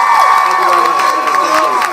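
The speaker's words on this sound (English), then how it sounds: "Please, round of applause." A comic con crowd cheers and whoops loudly, with shrill high voices dominating over some clapping, dense and close throughout.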